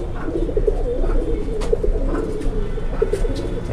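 Pigeons cooing in a loft at Tongi, a steady overlapping chorus of low throaty coos close by, with a few short sharp chirps and rustles standing out, and no talking.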